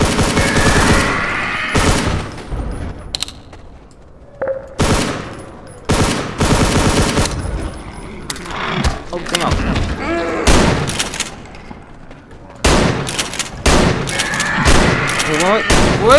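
Gunfire in the first-person shooter Hunt Down the Freeman rattles in loud, close automatic bursts and single shots with occasional booms, broken by short pauses, and voices talk at times between the volleys.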